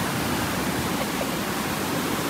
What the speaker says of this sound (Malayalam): അവിടെ നിന്ന് ഒഴുകി വരുന്ന വെള്ളമാണ് ഇത് കണ്ടില്ലേ